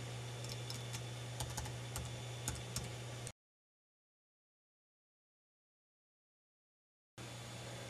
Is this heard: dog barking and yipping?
no